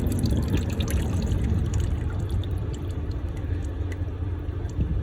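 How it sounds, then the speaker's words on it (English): Engine oil runs from a car's drain plug into a catch pan during an oil change, a steady close trickle and splatter of liquid over a low background rumble. "More oil will come out of here for sure."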